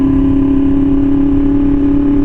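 Yamaha R1M motorcycle with an SC Project exhaust cruising on the road, a loud continuous high-pitched engine drone with strong steady tone and wind rush, no breaks.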